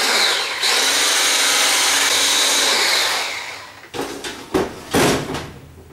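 Electric hand mixer beating cupcake batter of flour and milk in a bowl, a steady loud whirring drone for about three seconds, then several short bursts and knocks as it stops and restarts.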